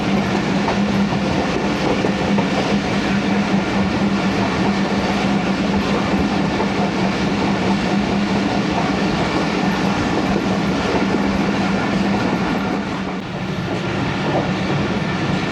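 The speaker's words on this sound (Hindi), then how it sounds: "4 बजकर 26 मिनट हो रहे हैं और कोट लखपत रेलवे स्टेशन पहुंचने वाली है ट्रेन।" The Karakoram Express passenger train runs between Lahore stations near Kot Lakhpat in a steady, loud rumble of wheels on rails, with clickety-clack from the carriage throughout.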